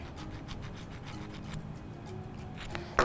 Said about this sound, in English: I'll go down and kind of smooth this bottom one out too